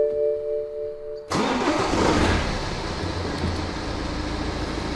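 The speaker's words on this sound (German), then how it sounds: "Ich setze mich mal kurz rein und starte einmal das Fahrzeug." A BMW E87 123d diesel engine cranks and fires up close by after a quiet start, then settles into a steady, loud idle with a broad rumble and no talking.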